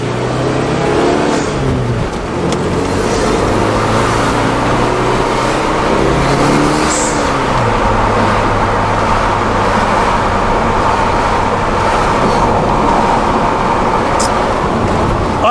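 A 1999 Mitsubishi Eclipse GSX drives along the road, its engine droning loudly with rising and falling revs early on, then settling into a steady cruise over constant road and wind noise.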